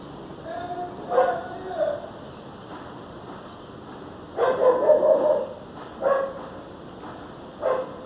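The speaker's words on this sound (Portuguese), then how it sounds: "cachorro gritando em casa" Dog at home giving several short barks and yips in separate bursts, fairly close over quiet room background.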